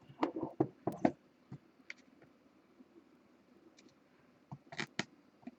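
Someone cuts open and handles a basketball trading card box, 2014 National Treasures, with sharp close clicks, snips and crinkly taps in short bursts near the start and end, separated by a quiet stretch, with no talking.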